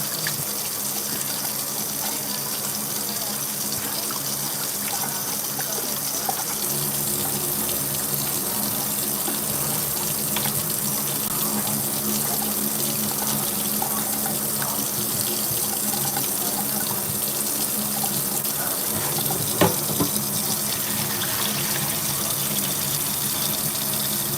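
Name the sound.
tap water running while washing chicken for soup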